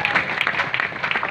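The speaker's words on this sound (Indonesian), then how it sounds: "Tepuk tangan untuk Pak Giri." A short burst of clapping from a crowd at an Islamic religious gathering in Indonesia, moderately loud and continuous.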